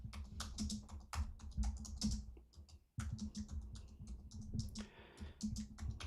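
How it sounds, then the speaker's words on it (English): Typing a question on a computer keyboard, with steady bursts of close keystrokes that pause briefly midway and then resume in a fast, uneven rhythm. "So, let me just type this out."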